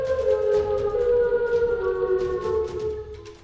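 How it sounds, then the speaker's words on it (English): A steady wailing warning siren sounding through a small town holds its tone continuously, moderately loud with a faint background hum. "A warning siren rips through the small town."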